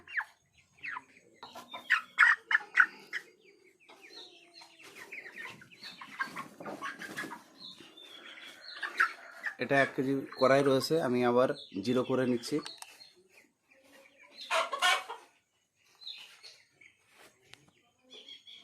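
Broiler chickens at forty days old cluck intermittently beside a digital scale while they are weighed one by one, their calls mostly buried under steady nearby talk.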